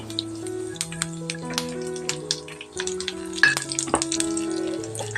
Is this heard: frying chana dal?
yes